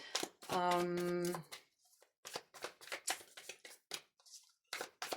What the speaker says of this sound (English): let's shuffle the cards again